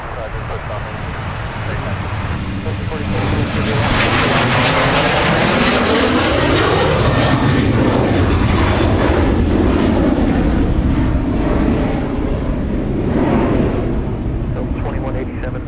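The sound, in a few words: Delta jet airliner taking off from runway at MSP airport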